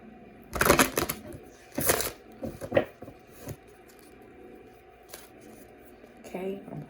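A deck of tarot cards being shuffled by hand in several short, crisp riffling bursts separated by pauses, close and fairly quiet.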